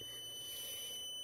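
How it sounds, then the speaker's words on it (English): A Growatt 6000T solar inverter beeps during a firmware update: a steady high-pitched electronic tone holds continuously at a constant level, with no pauses and no voices. "And now the inverter is going to start beeping,"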